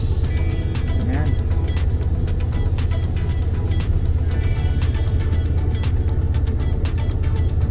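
Idling road traffic at a stop light in Saipan, a low continuous engine rumble from nearby cars with faint passing noise and a voice speaking over it.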